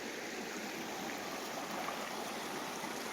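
River water rushes steadily over stones in Konkan, a constant full hiss of flowing current with no pauses, fairly close and moderately loud.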